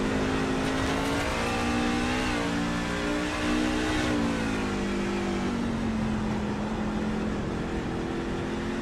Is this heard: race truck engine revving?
yes